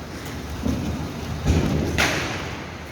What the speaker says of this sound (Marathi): और पाऊस पडते खूप